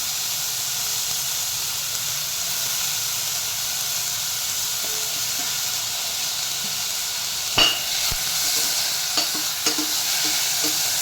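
Tomato with crushed ginger and garlic sizzles and hisses in a hot pan, a steady close frying noise, with spoon scrapes and clatters from stirring near the end and no talk.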